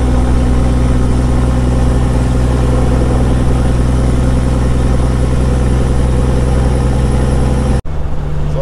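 Peterbilt 379 truck with a CAT engine and 7-inch straight pipe cruising in top gear on an interstate, a loud steady deep drone with constant rumble that cuts off abruptly near the end.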